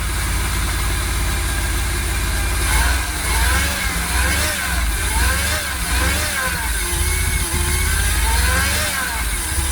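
A Jaguar XKR X100 with a restricted-performance throttle body fault revs under throttle. The engine's growl rises and falls in several close, loud surges over a steady idle.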